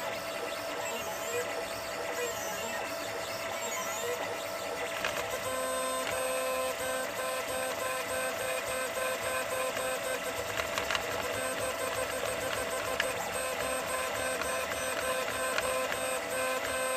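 A 3D printer is printing a power feed adapter part in a home shop, its stepper motors whirring and chirping continuously at a moderate level through the whole stretch, with small clicks now and then.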